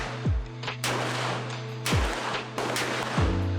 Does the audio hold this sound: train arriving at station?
no